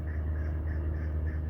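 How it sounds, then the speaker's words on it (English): A chukar partridge calls from a nearby yard, a repeated series of short, evenly spaced clucking notes over a low, constant rumble of background noise. "That's a chucker."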